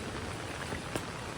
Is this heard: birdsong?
no